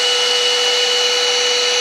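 A vacuum cleaner runs at full speed with a loud, steady, high-pitched whine and hiss, holding the same level throughout with no talking.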